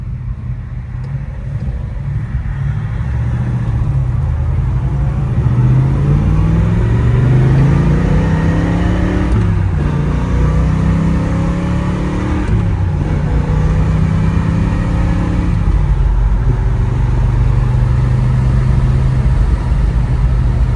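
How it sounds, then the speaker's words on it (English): A 1967 Chevrolet Chevelle SS 396 V8 accelerating hard, its deep engine rumble rising through the gears with audible shift dips, loud and sustained from inside or near the car. "I'm gonna have Dad get on it just a little bit."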